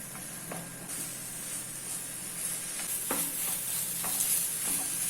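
Soya keema is stirred into cooked tomatoes and spices in a pan. A spoon scrapes and clacks at an irregular pace over a low, steady sizzle. It is close and fairly quiet, with no talking.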